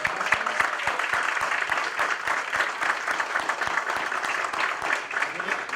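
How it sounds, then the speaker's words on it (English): Audience applause after oratorical speeches at a Spellman oratorical event, steady clapping from a room of people with a regular thumping beat running through it and some voices mixed in. "Big round of applause for all."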